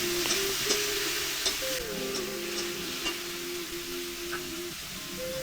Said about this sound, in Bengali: আর ওই যে কেটে রেখেছিলাম টমেটোগুলো দিয়ে একসাথে ভেজে নিচ্ছি।